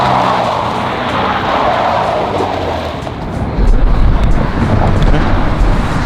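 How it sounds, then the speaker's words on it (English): A Subaru BRZ drift car on sticky tires slides through a few skids in an open lot, engine roaring loudly and continuously with tire squeal and a heavier low rumble building toward the end. "I figured we would use all of this wasted space to do just a few skids, just a couple."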